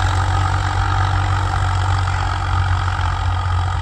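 A Swaraj four-wheel-drive tractor engine runs steadily at idle in a village setting, a constant low diesel rumble with a hum, continuous and close, with no voices.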